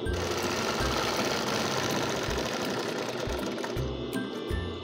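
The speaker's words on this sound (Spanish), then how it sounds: "Clavo la aguja, levanto la tela y giro, pongamos la puntada pequeña" A sewing machine runs steadily, stitching a zipper welt pocket in fabric, its rapid needle chatter continuous and close with brief stops and restarts, no talking.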